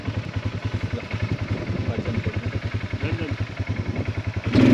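An ATV quad bike engine chugs in a fast, even pulse up close while riding in Pokhara, rising louder near the end, with a voice talking over it.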